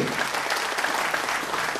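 Dense, enthusiastic applause from a seminar audience in Dubai welcoming a speaker, a continuous wash of many hands clapping at an even level.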